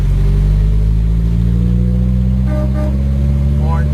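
A 1961 Triumph TR3B pulls uphill in second gear, its engine droning loud and close with steady low rumbling, the pitch climbing slightly near the end, while someone talks briefly over it.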